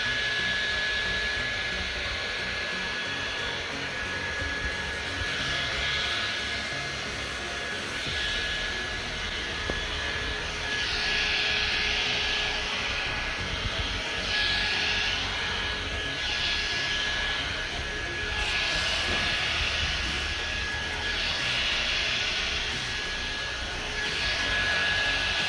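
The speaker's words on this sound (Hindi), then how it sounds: "इसको बस ऐसे ऑन करना है, ब्लो ड्रायर की तरह एक्ट करता है" A Panasonic brush hair dryer blows with a steady, loud whooshing roar and a thin constant whine, while small shifts in the airflow come and go as hair is brushed and dried for the whole stretch.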